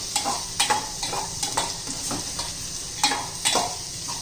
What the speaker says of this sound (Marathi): आपण बारीक करून घेतलेले शेंगदाणे आणि मिरची ती पण या तेलामध्ये छान अशी परतून घ्यायची